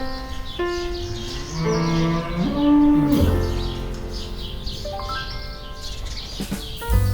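Cows on a Swiss farm moo in long, drawn-out lowing calls, one after another and overlapping, with faint bird chirps in the background.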